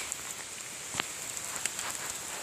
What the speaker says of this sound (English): Sorry about the rain back. It makes a cute background,